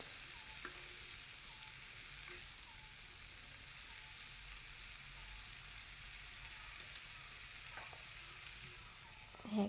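Dhekia fern greens frying in a pan over a low flame, a steady soft sizzle with faint stirring scrapes running evenly throughout, close and quiet.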